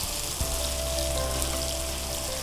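Chicken fries in about three tablespoons of hot oil, giving a steady, close, even sizzle that holds without break for the whole stretch, with no voices.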